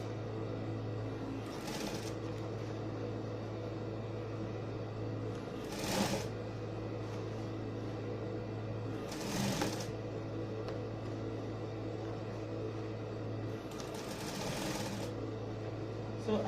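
Sewing machine stitching a ruffled sleeve, with a steady low motor hum running for long stretches, broken by a few brief scraping handling noises between runs.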